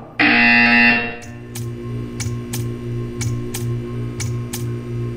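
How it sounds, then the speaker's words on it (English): A loud electronic test chamber buzzer in the video game Portal 2, one harsh sustained blare for about a second, then a regular ticking under a low hum. "When you hear the buzzer, stare at the art."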